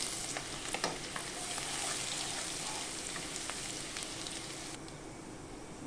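Bay leaves, dry red chillies, whole cumin and garlic paste fry in hot oil for a Bengali egg tarka with dal. The oil gives a soft, steady sizzle with a few light stirring clicks, and no voices are heard.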